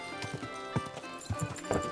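Horse hooves clip-clopping in uneven beats with a brief whinny, from a medieval open-world video game, Kingdom Come Deliverance 2, heard close and moderately loud over faint game ambience.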